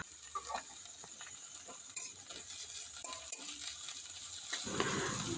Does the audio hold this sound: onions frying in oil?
yes